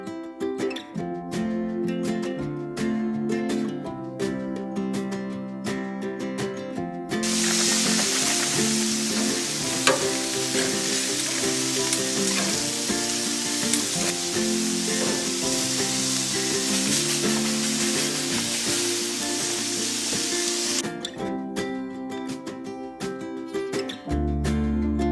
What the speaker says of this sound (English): So as I'm grilling them, the trick is to just get as much sauce onto these wings as I can.